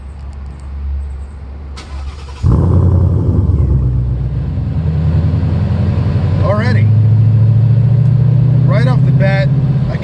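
A 2016 Ford Mustang GT with Kooks longtube headers and an MBRP Race catback starts up: a sharp catch after a short spoken word, then a loud, deep, steady idle rumble, with a voice talking over it.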